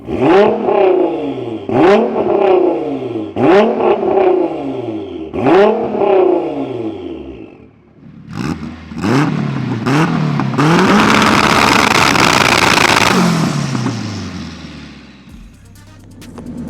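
A 1000 hp all-wheel-drive Nissan GTR and a 770 hp all-wheel-drive Honda DC5 Type R rev hard, with repeated loud throttle blips rising and falling, then a long sustained roaring rev that fades out.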